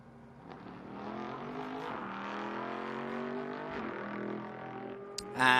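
A race car at the Velocity Invitational, in the style of the Ford that took on Ferrari at Le Mans and wearing Gulf colors, drones steadily with a harmonic engine note that rises and falls, ending in a louder burst.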